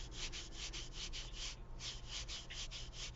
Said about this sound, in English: Rubbing a potato ASMR.